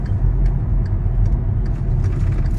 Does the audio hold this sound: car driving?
yes